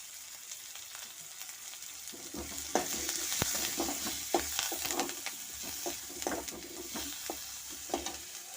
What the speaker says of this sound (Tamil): ஒரு வதக்கிறோம். அப்படியே நல்லா வதக்கணும்.